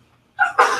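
A single short human sneeze, a quick sharp intake followed by a bright burst, close and loud in an otherwise quiet indoor room.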